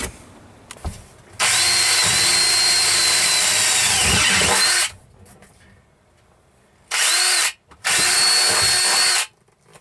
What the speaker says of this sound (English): I got the holes drilled in the seats